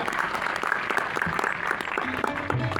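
Audience clapping to welcome a revered guest at a village event, a short stretch of steady, moderately distant applause with a faint murmur underneath.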